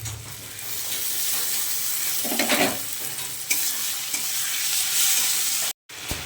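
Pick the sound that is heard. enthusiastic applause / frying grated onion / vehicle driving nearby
frying grated onion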